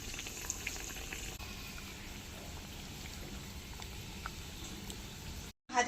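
Flour tiffin snacks deep frying in hot white oil in a wok, a continuous soft bubbling sizzle at a steady level with faint pops, cut off by a short silence just before the end.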